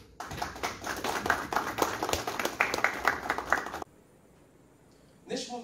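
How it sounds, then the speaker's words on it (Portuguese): An audience applauds at a formal ceremony of a state legal letters academy, dense steady clapping for several seconds that cuts off abruptly, followed by quiet and then a voice. "Uma salva de palmas."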